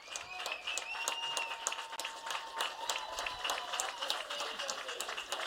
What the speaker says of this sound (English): Chance for him to walk off to a standing ovation